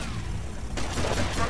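Rapid in-game gunfire from a shootout in the video game GTA Vice City, a dense burst of shots that grows heavier partway through, with a voice talking over part of it.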